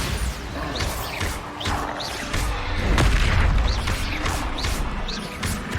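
Spell explosions from Hogwarts Legacy: a dense run of booming blasts and crashing impacts with whooshing casts, loudest around the middle, over continuous game noise and faint background voice.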